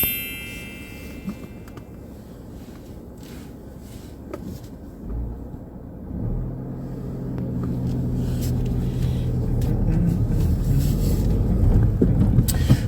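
A car pulling away on a mock driving test near Chertsey, low engine rumble building steadily from idle into acceleration, heard from inside the cabin with no talk.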